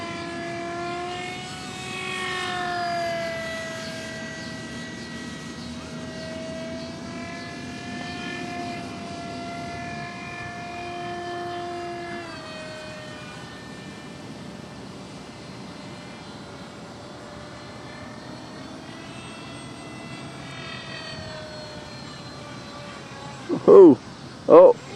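RC model airplane with a 22-12-6 electric motor and a 5x5 propeller in flight, a steady whining motor tone that rises and falls in pitch as the plane passes, with people talking and a couple of sharp bumps at the end.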